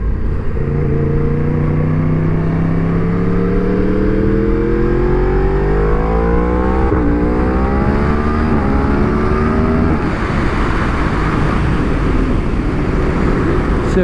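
A Yamaha R1M sport motorcycle accelerating hard onto a freeway, its engine note climbing steadily through the gears with brief shift dips, under constant heavy wind rush.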